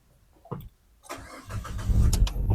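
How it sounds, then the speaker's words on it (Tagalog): The engine of a GLX-model seven-seater gasoline car cranks briefly after a couple of faint clicks, catches, and settles into a steady, close idle. "Start po natin yung engine nito."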